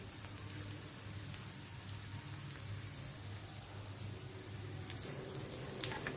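Karali fish roe frying in oil, a faint, steady sizzling hiss with fine crackling that carries on evenly, with no voices.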